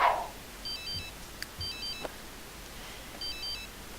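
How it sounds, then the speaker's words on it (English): A video game telephone rings in faint, repeated electronic trills, spaced apart against a quiet background, with no voices. "That phone's still ringing"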